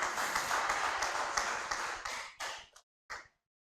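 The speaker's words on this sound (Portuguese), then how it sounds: "pode aplaudir Jesus" Church congregation applauding and praising Jesus at a pastor's prompt, a dense wash of clapping that thins out and ends in a few last scattered claps.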